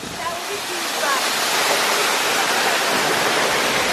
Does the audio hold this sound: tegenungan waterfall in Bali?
yes